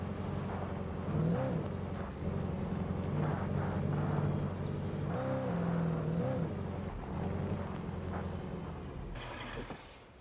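A car in the game Alan Wake Remastered drones past with a steady engine hum and shifting pitch, fairly close and continuous, then tails off at the end.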